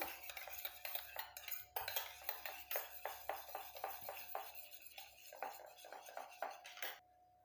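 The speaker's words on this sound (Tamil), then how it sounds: "இது நல்லா கலந்து விட்டுடலாம்" A spoon stirs and scrapes through a lemon skin-cream mixture in a bowl, giving a steady run of close, soft clinks and taps that ends in near silence.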